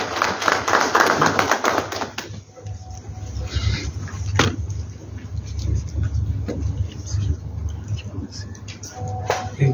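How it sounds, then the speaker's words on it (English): Conference audience applause in Harare at an annual residents' service delivery meeting, a broad clatter of clapping strongest in the first two seconds, then thinning beneath a steady hum and talking voices. "So shall we give him a round of applause as he comes through"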